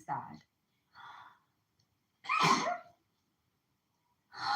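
A single loud sneeze from a woman during a Taurus tarot reading, standing out alone between brief stretches of her talking.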